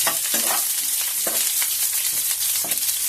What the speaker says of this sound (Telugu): ఈ ఉల్లిపాయ ముక్కలు కూడా మనం ఈ పోపుతో పాటు మనం వేయించుకుందాం